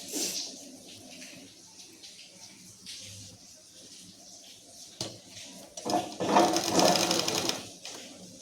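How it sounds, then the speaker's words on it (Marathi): Sewing machine stitching fabric in short runs, a faint mechanical whir at first, then a louder rapid chattering burst toward the end. "तर आता मी या बाजूने टिप देऊन दाखवते तुम्हाला."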